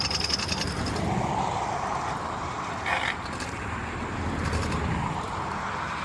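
A motorized bike's wheel scrapes and grinds as it is dragged along the ground, a steady, close mechanical rumble with rattling and ratcheting clicks that continues throughout.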